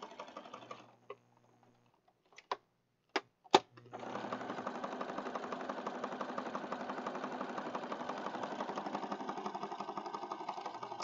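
A sewing machine stitching pages of a bluebonnet-themed junk journal, starting after a few sharp clicks and then running as a steady, fast, quiet mechanical whir heard close and alone.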